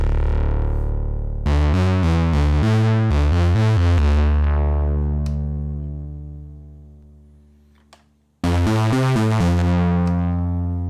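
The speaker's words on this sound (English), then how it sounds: "let's put some distortion on it." A gritty synthesizer with soft-clip distortion plays sustained chords that shift every second or so, fades away, then returns loud with new chords.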